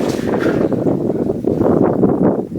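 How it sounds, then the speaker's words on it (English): Wind rushes steadily through a mine adit in the Yuba River mining area, a continuous low roaring gust with no talk over it. "You guys feel that breeze whipping through here?"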